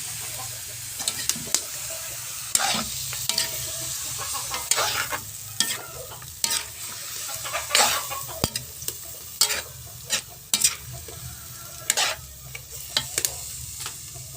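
Chicken sizzling and sautéing in a hot pan for adobo, with repeated scraping and stirring clatters throughout and a steady hiss underneath.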